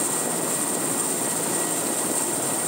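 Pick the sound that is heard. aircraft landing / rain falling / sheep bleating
aircraft landing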